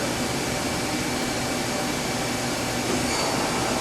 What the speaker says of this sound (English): what I want to do is manually turn my spindle on